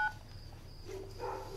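A mobile phone keypad dialing in a quiet indoor scene gives a single brief tone right at the start, then only faint low background hum follows, with no talking.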